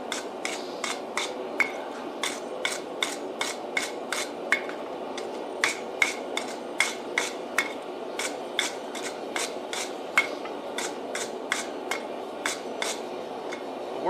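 A hammer strikes a hot Damascus billet during forge welding, about two sharp metallic blows per second in an uneven but steady rhythm, close and distinct over a low hum.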